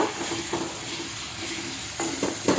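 Ginger-garlic paste stirred into prawn biryani masala frying in a pan, a soft sizzle under a few scraping stirs and light utensil knocks, close by with no talking.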